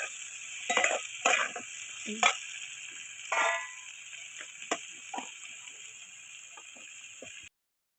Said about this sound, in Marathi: तेल भाजल्या त्यात कांदा टाकून घ्यायचा